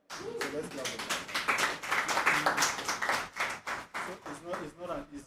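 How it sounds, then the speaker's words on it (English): An audience claps steadily for several seconds in an indoor mentoring session. The applause is dense and fairly loud, with a voice talking over part of it. "So let's clap for that."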